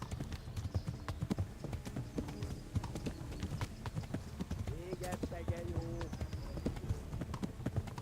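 Horse hooves clip-clop steadily at a walking pace in the medieval game Kingdom Come: Deliverance, a continuous run of close, regular hoofbeats under ambient game sound, with a faint whinny-like tone midway.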